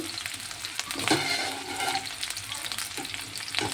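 Green chillies fry in oil for cabbage manchurian, a close, continuous sizzle with a few utensil scrapes as they are stirred, no one speaking.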